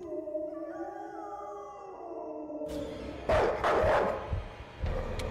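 Dog or wolf barking in the horror video game Night People, a few loud harsh bursts arriving abruptly after a tense stretch of droning ambience, close and aggressive.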